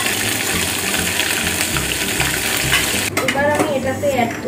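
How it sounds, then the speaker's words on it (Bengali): Garlic paste and ground nigella seeds fry in hot oil with a loud, steady, close sizzle and bubbling, joined near the end by clattering and faint tonal sounds. "রসুনটা ভাজা ভাজা হয়ে এলে আমি এর মধ্যে দিয়ে দেব কালো জিরা বাটা"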